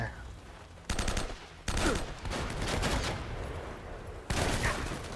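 Gunfire from Uncharted: Drake's Fortune, with loud bursts of rapid shots rattling out in clusters, separated by short lulls, close and dense throughout.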